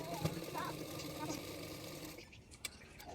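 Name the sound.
sewing machine stitching a kurti sleeve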